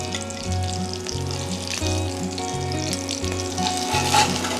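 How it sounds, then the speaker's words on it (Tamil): Fish pieces frying in hot oil for a Tamil fried fish curry, a steady close sizzle with crackling pops and a faint repeating low hum underneath, no talking. "இந்த மாதிரி நம்ம எல்லா மீனையும் வறுத்து எடுத்துக்கலாம்."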